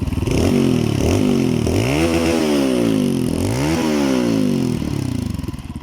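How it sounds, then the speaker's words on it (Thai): A GPX GR200R motorcycle engine, its exhaust fitted with a baffle plug, revs hard repeatedly up to the rev limiter, the pitch climbing and stuttering at the cut before dropping back, very loud and close. "มาฟังรอบตัดสักหนึ่งรอบ"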